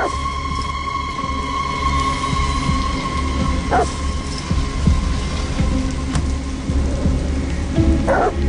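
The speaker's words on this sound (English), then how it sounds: "Goddamn dogs. What the fuck are they barking at?" Dogs bark in a rainstorm in the video game Detroit: Become Human, with occasional sharp barks heard against a steady wash of rain and low rumble, and no talk.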